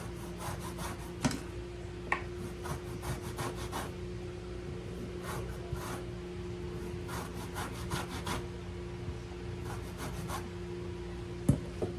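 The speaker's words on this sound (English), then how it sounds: "I'm going to go ahead and take this orange and I'm going to get me a little bit of zest off of there." An orange is zested on a grater in quick, raspy strokes arriving in short bursts with pauses between, close but fairly quiet against a low steady hum.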